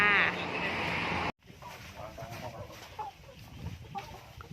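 Egg-laying chickens cluck in short, scattered calls, starting loud and close, then continuing more quietly over a noisy outdoor background.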